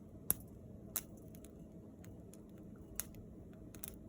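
Mustard seeds, added with cumin seeds, popping in a hot pan with no oil: a few sharp, isolated pops at irregular intervals over a quiet, steady background hiss.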